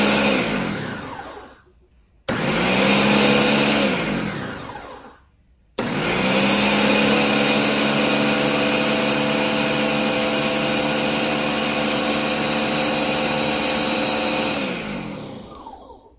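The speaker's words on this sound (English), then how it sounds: "It'll basically sit there and pulse, and I guess it figures out how long it needs to pulse for" A Ninja blender on its Auto IQ program pulses in three loud motor bursts, two short ones separated by brief pauses and then a long sustained run that winds down at the end.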